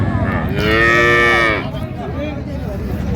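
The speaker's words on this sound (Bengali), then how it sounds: "গাভী বাছুর আমরা দেখছিলাম এখানে" Cattle at a rural livestock market in Dinajpur, where dairy cows and calves are sold, give one loud, drawn-out moo close by, followed by quieter crowd murmur.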